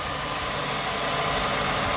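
A 1997 Lincoln LSC with about 51,000 miles idling, giving a steady, smooth, even engine hum with no audible misses or ticking, heard up close for two seconds without talking.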